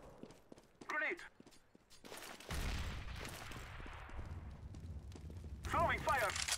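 Grenade explosion in CS:GO: a sudden deep blast about midway that trails into a long rumbling decay, with scattered clicks and brief shouted voices before and after.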